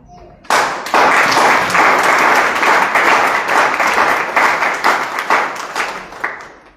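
An audience claps in sustained, dense applause that begins abruptly and carries on steadily to the end, loud and close, with a few sharper individual claps standing out.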